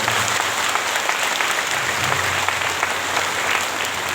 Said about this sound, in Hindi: सभी पुनः एक दूसरे के उत्साहवर्धन में तालियों की बजाएं।